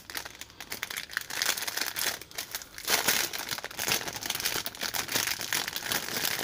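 A parcel from AliExpress holding a snail trap is opened by hand, a close, continuous crinkling and rustling of packaging with occasional tearing bursts.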